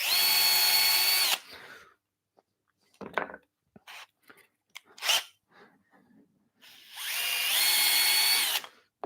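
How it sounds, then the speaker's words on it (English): Power drill boring holes in wood while making a drilling block, two loud sustained bursts of motor whine at the start and end, separated by quieter clicks and handling noises. "We can drill."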